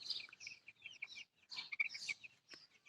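Young chicks from a second batch peep and chirp in a village yard, a scatter of thin, high cheeps and soft clucks coming in bursts, fairly faint, with brief pauses between.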